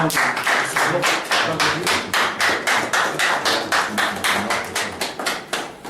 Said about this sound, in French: Applaudissons encore notre intervenant.